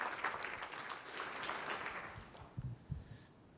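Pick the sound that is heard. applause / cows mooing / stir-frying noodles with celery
applause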